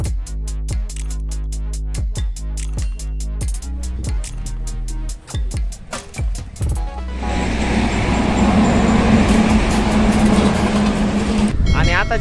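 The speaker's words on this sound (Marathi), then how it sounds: "तर गाडी घेऊन आपण केजकडे जाणार आहेत" Music plays at first, then a car travelling on a road brings a steady, loud rumble of engine and road noise that fills the rest of the stretch.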